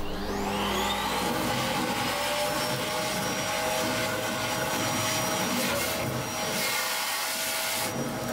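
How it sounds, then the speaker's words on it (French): A vacuum cleaner drones loud and steady, sucking rust out of a Maserati sedan's fuel tank during restoration, with a rough rattling hiss from debris in the hose. "la meilleure méthode, et de loin, c'était l'aspirateur"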